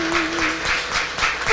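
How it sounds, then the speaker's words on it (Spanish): A church congregation claps in praise to Jesus during a Spanish-language worship service, a loud steady wash of applause with a pulsing rhythm, under a faint sustained tone. "Dele un aplauso a Jesús"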